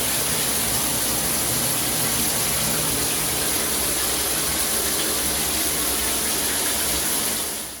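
Water running steadily from a Canopy handheld filtered showerhead, a loud, even, broadband rushing spray that continues unbroken for several seconds and then tapers off slightly at the end, with no voices.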